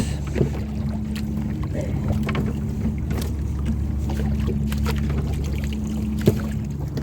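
A boat engine hums steadily at sea, its low drone constant and close for the whole stretch, with wind buffeting the microphone and a couple of brief knocks; no talking.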